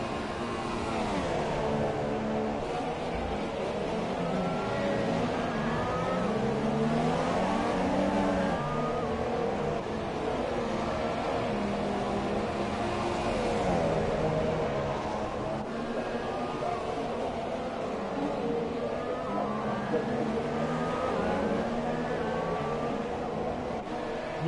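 F1 racing car engines in the F1 2017 video game at the Austrian GP, a continuous high-pitched whine rising and falling with gear changes, with a commentator talking over it throughout.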